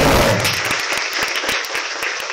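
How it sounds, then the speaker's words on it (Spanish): Applause at a school graduation ceremony for environmental heroes, a dense wash of many hands clapping that starts loud and continues steadily, thinning slightly into more distinct individual claps toward the end. "Fuerte el aplauso para ellos, por favor."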